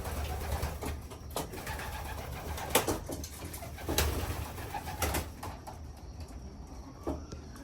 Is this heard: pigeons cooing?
yes